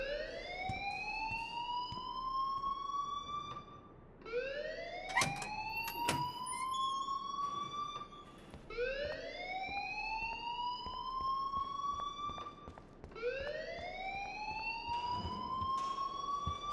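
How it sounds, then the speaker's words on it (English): A school alarm in the video game Life is Strange wails in four rising, sweeping cycles, each climbing in pitch and then holding steady, loud and continuous with no talk over it. "please turn off that alarm since that's your job"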